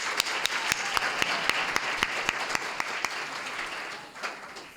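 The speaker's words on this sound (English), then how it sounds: "A round of applause" A welcoming round of applause at the opening of the Africa-Asia International Forum session, dense clapping with a few sharp, distinct claps standing out, steady throughout and tapering slightly at the end.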